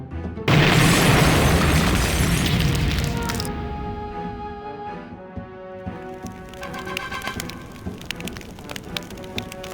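A loud explosion in the video game Diabolik: The Original Sin bursts in suddenly, then rumbles and crackles for a few seconds before fading into lingering debris and ambient game sound.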